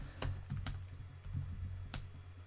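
Cisco router BGP configuration commands being typed on a computer keyboard, with irregular, close clicks of individual keystrokes separated by short pauses over a low hum.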